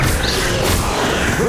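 A Bombarda blasting spell in Hogwarts Legacy lets out a loud, dense burst of rumbling, crashing noise that holds steady for a moment and fills the whole range.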